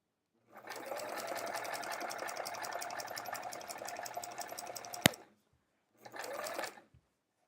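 A sewing machine straight-line quilting with metallic thread hums in a fast, even run of about four and a half seconds and ends with a sharp click. After a short pause, a brief second burst follows.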